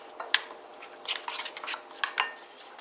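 Chicken tikka pieces being mixed in a bowl with soy sauce and vinegar, giving a run of clinking and scraping utensil-on-dish sounds with sharp taps at irregular intervals, close and fairly quiet, with no talking.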